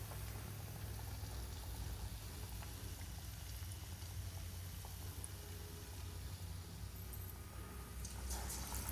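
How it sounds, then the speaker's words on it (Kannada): Paneer-stuffed bread rolls sizzle in hot oil, a steady, dense crackle and bubbling hiss that holds evenly from start to finish with no voices. "ಎಣ್ಣೆ ಕಾದೈತಿ, ಸಾವಕಾಶ ಹಾಕ್ರಿ. ಒಂದು ಎರಡೆರಡು ಫ್ರೈ ಮಾಡೋಣ."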